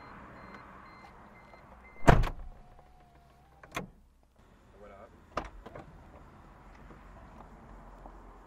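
Power windows on a black or beige Mazda Protege closing as the car is locked, a motor whir with a few sharp clunks and beeps nearby, over low background hum.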